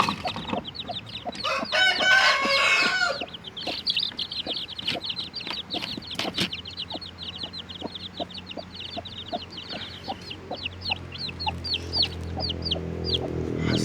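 Bangkok and village chickens cluck in a yard while five freshly hatched chicks from a simple incubator peep in rapid, constant high chirps, with occasional louder squawks close by.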